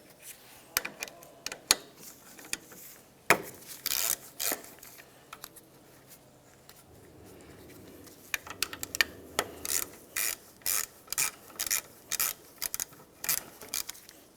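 On a 2000-2006 Chevrolet Tahoe rear brake, a ratchet loosens the two 12mm caliper mounting bolts. Clicking pawl strokes come close up, first sparse and then in a steady rapid rhythm, with a low rubbing scrape between them.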